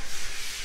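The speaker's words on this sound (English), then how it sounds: "is sanding and painting in here in the office area" Sanding during house construction in a Philippine office area, a steady close abrasive rubbing that holds broadband and even for the whole short stretch, with no voices.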